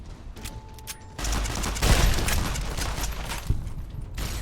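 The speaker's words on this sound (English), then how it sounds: "That fucking gamma gun hits hard!" Gamma gun fire in Fallout New Vegas, a loud burst of rapid energy-weapon shots with heavy impacts that sets in suddenly after a quieter start and rolls on for several seconds.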